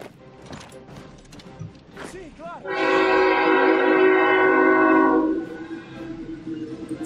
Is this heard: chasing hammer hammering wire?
no